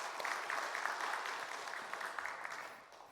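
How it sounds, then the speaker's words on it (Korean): Church congregation applauding during a Sunday worship service, a moderately distant, steady wash of many hands clapping that gradually tapers off toward the end. "박수 한번 해주셔요."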